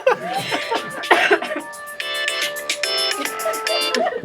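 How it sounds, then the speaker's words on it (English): A phone alarm rings in a series of bright melodic tones, close and fairly loud, following a cough and some light chatter and laughter. "I set an alarm for myself to remember to try to show up for the show."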